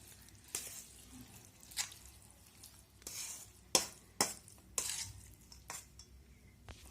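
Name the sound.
stirring curd rice with milk for daddojanam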